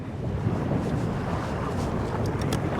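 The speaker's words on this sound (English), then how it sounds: "Definitely a little windier than it was projected today." Wind blows across open water on a fishing outing, a steady broadband rush and buffeting against the microphone, constant and fairly loud with no speech.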